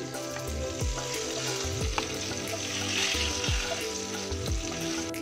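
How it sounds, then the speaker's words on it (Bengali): Aubergine pieces fry in oil with a steady, crackling sizzle. Soft clinks and stirring knocks recur every second or so, close at hand. "এইভাবে আমি অন্য বেগুনের টুকরোগুলোকে তেলে ছেড়ে লাল করে ভেজে নেব।"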